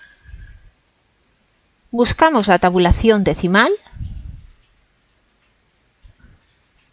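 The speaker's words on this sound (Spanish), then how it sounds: "Hacemos clic en el centímetro 7" Computer mouse clicks while decimal and other tab stops are set on a word-processor ruler, a few sharp clicks heard near and under clear speech.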